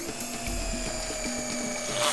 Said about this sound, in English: Oh, look at him drill.